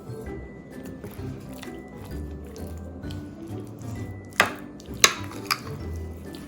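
Soft wet squishing and a few sharp clinks as chicken pieces are mixed with cornstarch and all-purpose flour coating in a bowl, the quiet stirring broken by three distinct taps of a utensil against the dish.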